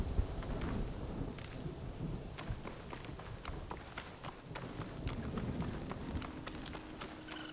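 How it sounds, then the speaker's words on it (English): Storm in the video game Horizon Forbidden West: steady rain noise with scattered crackling drops and low rumbling thunder, continuous and moderately quiet, no speech. "I hear the storm a-coming."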